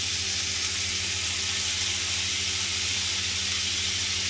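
Chicken shashlik pieces and vegetables frying in a pan over a medium flame, giving a steady, even sizzle and hiss with a low hum underneath, with no talking.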